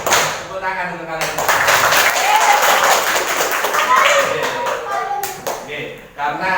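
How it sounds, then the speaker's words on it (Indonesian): Students in a classroom burst into loud, dense applause that carries on for several seconds, with a voice briefly heard at the start and close. "Tepuk tangan untuk kalian."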